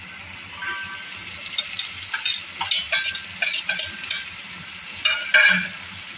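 A spatula stirs and mixes Bengali bhoger labra, a mixed vegetable curry with stems, in a pan, giving soft scraping strokes and light clinks in an irregular rhythm over a low sizzle, close and moderate, with no talking.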